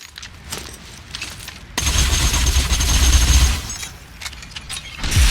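The Consummate Florentine gun firing in a video game: a quieter mechanical lead-in, then a sudden loud burst of rapid continuous fire with a heavy low rumble lasting about two seconds, tailing off before a final shot.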